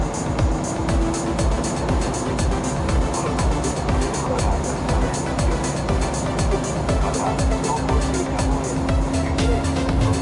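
A train runs steadily near Onuma Park in winter, a loud continuous rumble of wheels and motor with rhythmic clatter, heard close from on board, with faint talk underneath.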